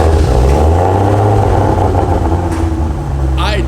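A Ford Mustang GT350 with a new exhaust revs loudly and close by, a deep, steady engine roar holding throughout with a brief rise near the end, people talking over it.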